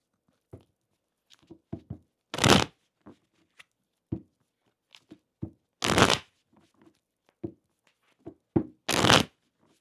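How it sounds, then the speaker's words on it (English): Cards riffle-shuffled three times in loud, rapid bursts, with softer taps and handling clicks of the deck between them. "So let me shuffle the deck."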